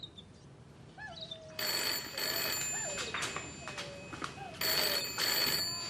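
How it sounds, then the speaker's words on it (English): A telephone bell rings in repeated bursts indoors, trilling loudly at close range, with a faint chirping tone sounding between the rings. "It's the phone."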